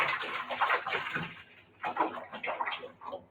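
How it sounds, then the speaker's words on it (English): Filtered water splashes and pours into a vessel to wash bananas in a home kitchen, two uneven bursts of close, moderate gushing separated by a short pause. "I'm going to use filtered water to wash these bananas."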